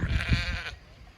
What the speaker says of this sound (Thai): มาแล้วจ้าแกะจ้า